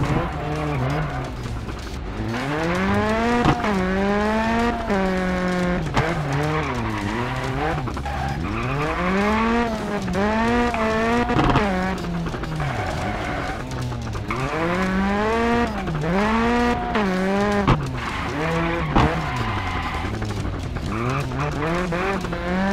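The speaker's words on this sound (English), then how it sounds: "Try to perform a handbrake turn on the next corner." A rally car in Sébastien Loeb Rally Evo revs and slides with loud, continuous tire squeal and skidding as the engine pitch swoops up and down through corners, including handbrake turns.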